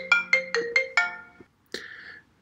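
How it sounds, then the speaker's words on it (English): A phone ringtone plays during a statistics presentation: five quick bright electronic tones in a rising pattern, a short silence, then one more chime fading out, clear and alone. "sorry about the disruption with the phone"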